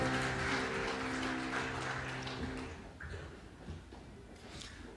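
A church congregation claps during a Sunday worship service, a soft steady patter of applause with a lingering sustained organ or keyboard chord underneath that stops midway, leaving the clapping to thin out.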